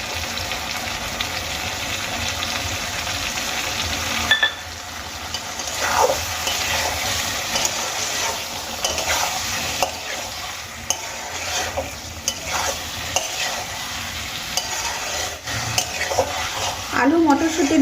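Spiced potatoes with boiled peas fry in a pan, a constant sizzle under repeated scraping strokes of a spoon stirring against the metal, close and fairly loud throughout with faint clinks.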